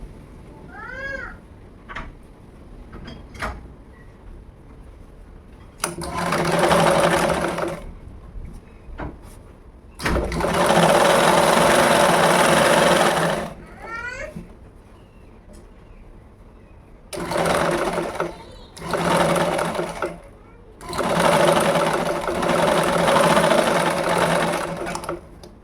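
A sewing machine stitches a ladies' blouse sleeve in several bursts of loud, fast mechanical whirring, separated by quiet pauses, with a cat meowing a few times in between.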